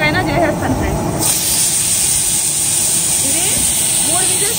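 A pressure cooker holding chicken curry lets out a loud, sustained steam hiss close by, cutting off abruptly partway through as a softer hiss continues.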